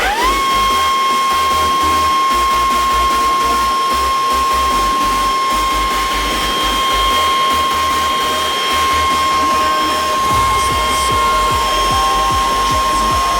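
A Makita 36V cordless leaf blower runs steadily and loudly close by, with a high whine and a dip in pitch near the end, no talking over it.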